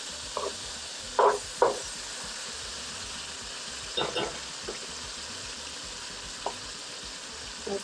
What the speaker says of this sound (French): On le remet dans l'huile.